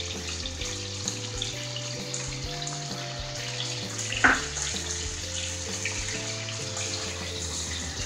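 Tomatoes, green chillies and a little tamarind frying in a pan, giving a steady, even sizzle throughout with one brief sharper crackle, heard under soft background music.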